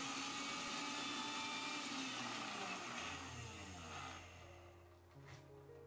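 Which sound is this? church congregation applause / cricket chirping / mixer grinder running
mixer grinder running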